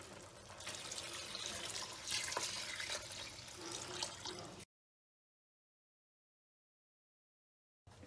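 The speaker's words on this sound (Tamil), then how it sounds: "இப்போ நான் இதுக்கு ஒரு 5 கப்ஸ் தண்ணி ஆட் பண்ணுறேங்க." Water pours steadily into a pot of soaked basmati rice for egg biryani, a close splashing stream for several seconds that stops abruptly, followed by silence.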